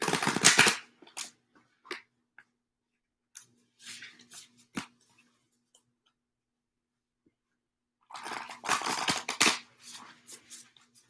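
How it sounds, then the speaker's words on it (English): Shuffling of a deck of reading cards during a live reading session, close and crisp riffling in two bursts at the start and near the end, with scattered light card taps and quiet gaps between. "One more shuffle."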